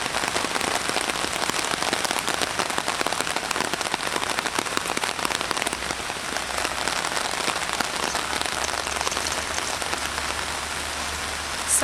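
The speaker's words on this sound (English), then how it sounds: "So as you can tell, it's raining a lot." Heavy rain falls steadily in the Hong Kong Botanical and Zoological Gardens, a dense, loud, unbroken hiss of drops striking leaves and ground close by, with no voices.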